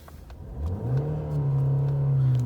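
A 2015 Ford Fusion SE engine revs up from idle and holds steady against its 4,000 rpm rev limiter, a loud, sustained drone lasting a couple of seconds.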